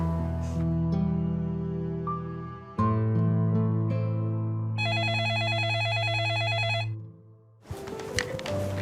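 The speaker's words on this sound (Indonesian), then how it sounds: "Ada telepon minta disambungkan ke Bu Kinan" A telephone rings in repeated electronic bursts, loud and close, with a steady tone pattern over a low musical background and no talk.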